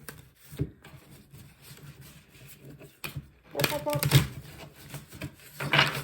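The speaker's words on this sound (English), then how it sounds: "I'm gonna shuffle this way." Tarot cards being shuffled by hand, soft rubbing and flicking with a louder burst of card riffling near the end, close and fairly quiet.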